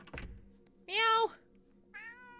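Two meows from a cat in the video game Cats and the Other Lives: a loud, drawn-out call followed by a shorter, softer one after a brief pause, heard alone over a faint background hum.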